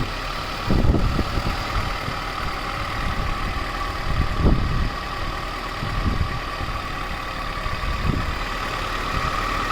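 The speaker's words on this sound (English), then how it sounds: "Right now you can just check out the engine rev sound, how beautiful it is." An unmodified Maruti Gypsy King 413W 4x4 engine idles loudly and close by, rising in several short throttle blips spaced a few seconds apart before settling back to a steady idle each time.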